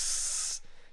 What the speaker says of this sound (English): You can really hear the sizzle.